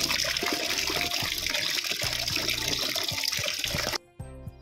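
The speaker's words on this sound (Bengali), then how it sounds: "ভালো করে পরিষ্কার করে মাটিগুলো ধুয়ে নিচ্ছি" Raw turmeric roots being rinsed of soil under a running tap, a steady close gush of water splashing over the roots that cuts off abruptly near the end, leaving a faint trickle.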